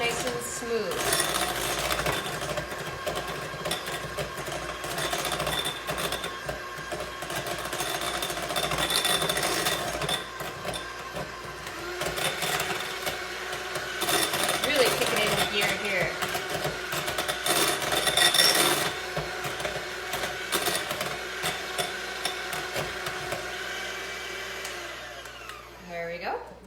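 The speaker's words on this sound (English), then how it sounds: "you're gonna mix this until all is nice and smooth" An electric mixer whirs continuously, beating cream cheese brownie batter in a home kitchen, with the motor pitch shifting as it works the mix; a voice talks over it at times.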